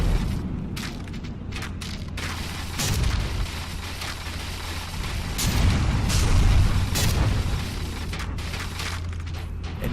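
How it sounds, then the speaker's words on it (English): In From the Depths, a warship's main magazine goes off amid ongoing naval combat: repeated booms and sharp bursts crackle over a constant rumbling mechanical din, swelling louder toward the middle. "that looked like her main magazine somewhere just went off"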